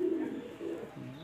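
A restless male pigeon being held in the hand, letting out a short, soft, low coo close by.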